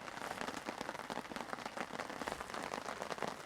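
Heavy rain pounds steadily on a tent, a dense, close, continuous patter with no pauses and no voices.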